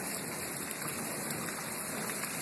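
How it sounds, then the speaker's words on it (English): Rainwater in Las Vegas pours onto porches across the way, a constant rushing, hissing wash with no pauses and no voices. "that's water going into the porches across the way"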